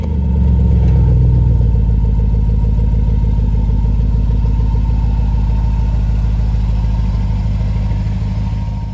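Jaguar XFR fitted with H&R wheel spacers on a test drive, its engine a steady loud mid-range drone with low rumble throughout, a brief swell near the start, no talking.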